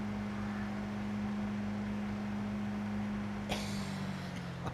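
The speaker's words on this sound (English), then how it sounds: "I think we're going to blow the engine up in a minute." Pickup truck engine in Farming Simulator 22, a steady droning hum held at high revs, moderately loud and continuous, with a brief clatter near the end.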